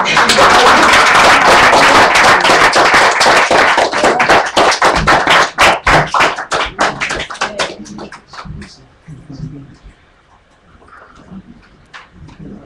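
An audience at a Workers World Party International Women's Day forum claps, starting as dense loud applause that thins into scattered individual claps and fades out toward the end.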